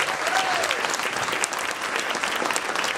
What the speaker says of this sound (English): Let's give Mayor Tom a round of applause.